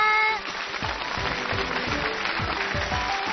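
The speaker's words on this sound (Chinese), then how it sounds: "掌声欢迎你们！" Applause from a studio audience of kindergarten children and their parents on a children's television show, a broad, sustained clapping that continues evenly, with some excited voices rising through it.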